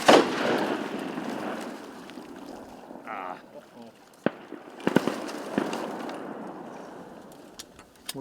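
Shotgun blasts at mallards during a Carolina duck hunt, a few sharp reports spread through the clip over outdoor background noise, with people talking in between.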